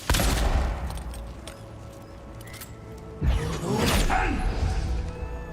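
Gunfire from a weapon in the fantasy video game Avowed: a loud burst of shots opens the clip, followed by quieter game sounds and a second sharp blast with a ringing tail near the end, with no talking.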